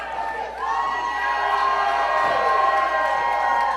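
Wrestling crowd at a Jack Pollock vs Joe Murphy match cheering and shouting loudly and steadily throughout, a dense roar of voices with whoops rising above it.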